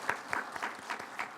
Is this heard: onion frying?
no